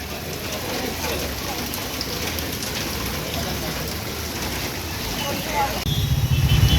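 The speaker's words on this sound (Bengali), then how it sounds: "এখনও বৃষ্টি কমেনি, বৃষ্টি পড়েই চলেছে।" Continuous rain pours on the waterlogged streets of Burdwan town in West Bengal, a steady dense hiss of drops on wet surfaces, with a low rumble from passing traffic rising near the end.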